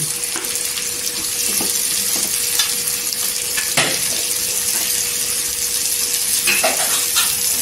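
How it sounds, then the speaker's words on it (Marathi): Tomato tipped onto golden fried onions in a pan for a dry shrimp chutney, frying with a steady close sizzle, a few scraping stirs and soft clatters, no talk. "इथे कांदा गोल्डन कलरवर झालेला आहे, तर इथे आहे ना आपण टोमॅटो टाकायचा।"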